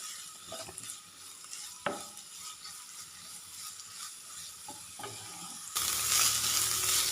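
Ginger and shallots sautéing in a pan for inji pachadi, a low continuous sizzle with scattered clicks and scrapes from stirring, then a sudden louder burst of hissing near the end.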